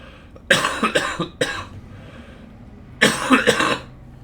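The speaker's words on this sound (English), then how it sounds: "my coughing has started again." Several sharp coughs close to the mic, in two clusters: a quick burst of three, a pause, then two more harsh coughs.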